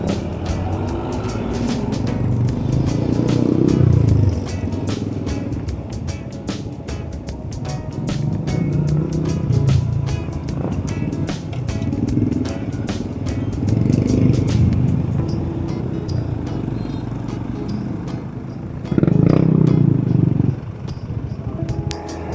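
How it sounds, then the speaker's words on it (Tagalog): Heavy road traffic of cars and motorcycles in Carcar City, Cebu, heard from a bicycle: engines rumble continuously, swelling loudly as vehicles pass close by, with buffeting wind noise throughout. "Medyo traffic talaga dito banda."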